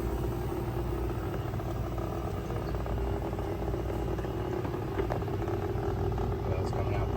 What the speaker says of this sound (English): you hear the pump come on?